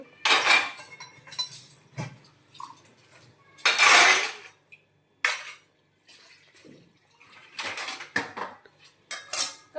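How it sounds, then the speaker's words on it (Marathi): Dishes, pots and steel utensils are scrubbed and rinsed in a home kitchen after cooking: bursts of clattering metal, clinks and splashing water come close and loud, separated by quiet pauses. "आणि अगोदर आलेले पहिलं भांडे घासून घेते, तेवढंच कमी एक काम होतं."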